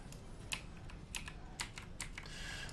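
Computer keyboard typing during a Rocket League session, sharp clicky keystrokes in irregular bursts, close and distinct over a steady low background hum.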